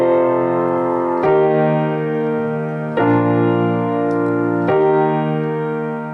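Both hands of a piano play the verse of a song: sustained chords that change roughly every couple of seconds with a clear melody above, close and resonant, with no voices.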